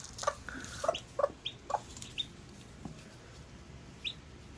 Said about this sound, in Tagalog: Tatlong pipirasong sisiw.